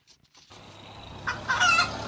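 A voice imitating a chicken's clucking while reading a children's picture book aloud, a short rising cluck-like call after a few soft sounds, alone and close.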